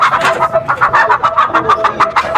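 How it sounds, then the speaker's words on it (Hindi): An Aseel rooster clucks in a rapid, steady run of short, loud calls, close by and clear with nothing else over it. "देसी नहीं, ओरिजिनल असील मुर्गा है"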